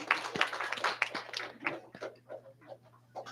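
Audience at a presentation breaking into brief, fairly faint clapping from a handful of people, a scattered flurry that thins out and fades after a couple of seconds.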